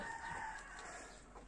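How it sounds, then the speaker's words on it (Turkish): A rooster crowing among farm poultry, a single drawn-out call at a fairly faint level with no talking. "Bu horozlanmış, tamamen horoz olmuş"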